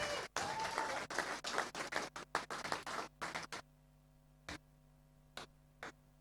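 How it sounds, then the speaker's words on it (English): An audience at a Garmin Lure Masters Trophy fishing tournament in the Netherlands claps in a faint, uneven burst that thins into a few scattered, isolated claps by the end. "Big applause, please."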